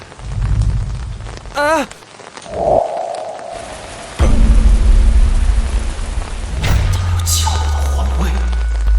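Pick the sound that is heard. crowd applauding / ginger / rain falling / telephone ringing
rain falling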